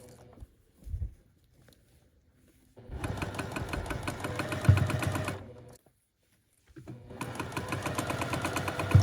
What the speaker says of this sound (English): We're going to start sewing, and we're going to gently just guide around this curve